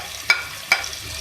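Ground onion, green chili and tomato paste frying in a pan for an aloo phool gobi gravy, a steady soft sizzle with three brief stirring scrapes spaced evenly, close by, no talk.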